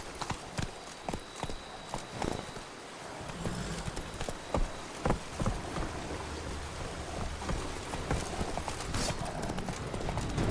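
Roach, a horse in Monster Hunter, gallops with steady rhythmic clip-clop hoofbeats over a soft, rain-like background hiss, moderately close and continuous, with no talking.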